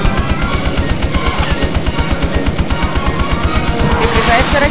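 F-16 cannon fire in the PS1 game Eagle One: Harrier Attack comes as a fast, loud, continuous burst of rapid rounds under a rumbling engine drone.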